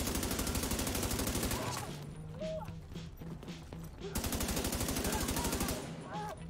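Rapid bursts of pistol shots in a video game, two dense strings of rattling gunfire separated by a quieter gap where a voice speaks and other game sounds chirp.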